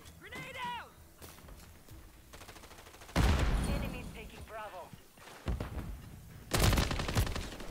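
Bursts of automatic gunfire in Call of Duty Modern Warfare 3 online play, several loud volleys in separate clusters, with someone talking between and over the shots.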